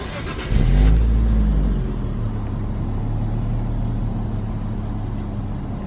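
An Infiniti car with stock exhaust starts by remote start: a brief cranking burst and quick rev, then settling into a steady, fairly quiet idle that hums on alone.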